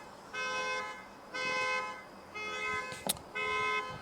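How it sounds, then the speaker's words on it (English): A broken-down car's alarm sounds in repeated horn-like honks, four sustained blasts with short gaps in a steady rhythm, loud and somewhat distant outdoors, with a brief sharp click near the end. "Oh, sorry about the honking."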